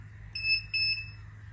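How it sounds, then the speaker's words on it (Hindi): An Urban yog hair curler switched on gives two short electronic beeps in quick succession, clear and close against a quiet hum. "ये ऑन करके ये खुद ही बीप होता है"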